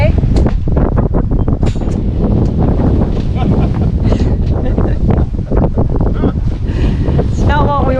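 A sailboat under sail on the way from Key West to St Petersburg, with strong wind buffeting close and loud and rushing water beneath, a constant rough roar throughout.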